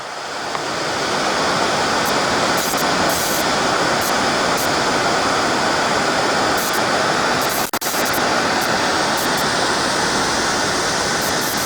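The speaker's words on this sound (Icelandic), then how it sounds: "Fossinn í Djúpvík" The waterfall at Djúpavík in Iceland roars as a loud, steady, broadband rush, close and unbroken, with no voices.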